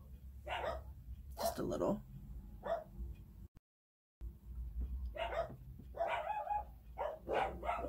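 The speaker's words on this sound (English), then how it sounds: "My dog seemed to think that nobody can be in our area." A dog indoors barks in short sharp bursts at people walking past outside, with someone talking over and between the barks close to the microphone.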